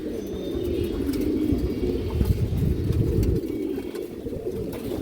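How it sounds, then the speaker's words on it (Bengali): A young pigeon from a racing loft gives soft, low cooing and murmuring calls close by, with faint rustling underneath. "খুব সুন্দর একটা কবুতর বাচ্চা কাছে দর্শক আমার কাছে আছে"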